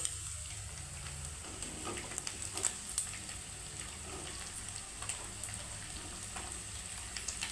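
A spoonful of cumin seeds frying in hot oil in a pan for a dried prawn tomato curry, a soft, continuous sizzle with small scattered pops and crackles, faint and steady throughout.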